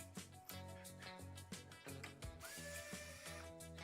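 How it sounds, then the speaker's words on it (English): Cordless power driver whirring in short bursts as it backs screws out of a PC radiator, each pull rising and stopping with a brief ratcheting tone, close and fairly quiet. "the 12 screws you gotta take out"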